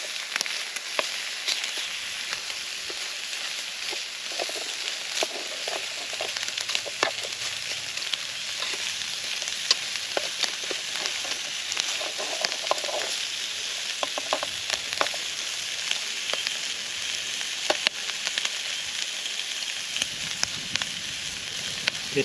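Bacon frying in a pan outdoors on a camp stove, giving a steady, close hiss of fine crackles with occasional sharper pops throughout, no voices.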